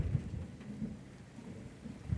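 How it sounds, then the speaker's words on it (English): Montana storm with thunder and wind, a faint low rumble and steady rain-like hiss throughout, distant and quiet, with no one talking. "wild to watch these storms, especially here in Montana"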